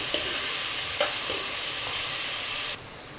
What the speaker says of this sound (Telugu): చూడండి ఉల్లిపాయలు అయితే వేగుతున్నాయి కదా